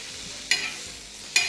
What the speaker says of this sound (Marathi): टोमॅटो आपल्याला जास्त परतायचं नाही, फक्त एकसारखं हलवून घ्यायचं आहे